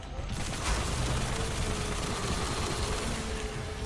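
Rapid primary-weapon gunfire in the Destiny video game during a boss fight, a dense continuous barrage of shots with layered blasts, loud and sustained throughout.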